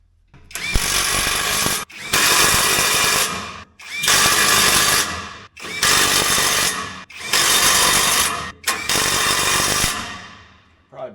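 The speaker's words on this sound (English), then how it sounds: "Better hit those with the big impact." A big impact wrench drives bolts while swapping stubborn beater bearings, firing six loud, even bursts of roughly a second and a half each, separated by short pauses.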